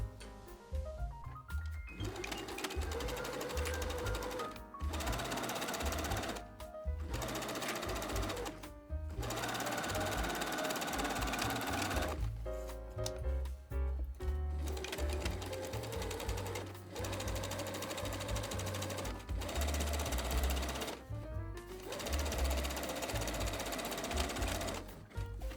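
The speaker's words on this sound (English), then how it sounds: "So I will sew here, only here," A sewing machine stitches the understitching on a dress pocket, running in bursts of steady, close mechanical whirring separated by short pauses as the fabric is repositioned.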